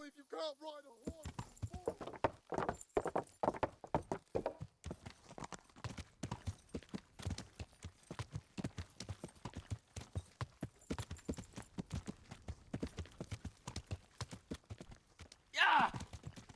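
Horse hooves clip-clop in a quick, steady rhythm throughout in the video game Kingdom Come: Deliverance, close and clear, with a voice speaking briefly at the start and a short burst near the end.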